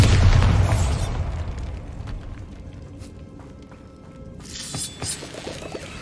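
A Bombarda blasting spell goes off in the Hogwarts Legacy video game with a loud, booming burst at the start that rumbles away into scattered debris and footsteps, and a second, smaller crackling burst follows near the end.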